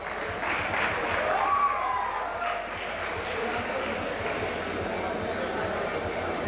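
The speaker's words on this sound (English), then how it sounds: "Give a big round of applause." Audience clapping for first-year class representatives at a department event, a sustained, moderately loud round of applause from a seated crowd with voices mixed in.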